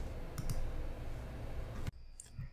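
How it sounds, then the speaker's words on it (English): A computer mouse clicks a few times, with sharp, isolated taps scattered over a low, quiet room hum and no talking. "I'll click the orange plus sign to add an action"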